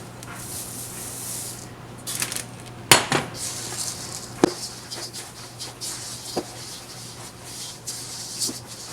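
A spatula folds oats into a thick breakfast cookie dough in a mixing bowl. Soft scraping and rubbing are broken by a few sharp clinks against the bowl, moderately quiet and close.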